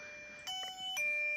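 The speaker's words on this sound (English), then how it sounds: "just sounds like a regular doorbell" A LETWESAF radar motion alarm chiming like a household doorbell, two electronic tones ringing close and clear in a quiet room.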